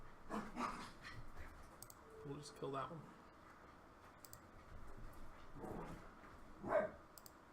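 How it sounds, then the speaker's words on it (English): A household dog barks faintly in the background, with a few scattered barks beneath a person talking nearby. "Sorry, my dog's barking in the background."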